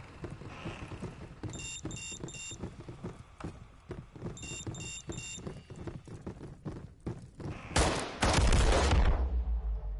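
Pistol fire in an online shooter video game, with rapid bursts of sharp shots and thuds in uneven clusters, ending in a loud louder blast near the end.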